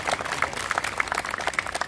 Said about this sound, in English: give your parents and families a round of applause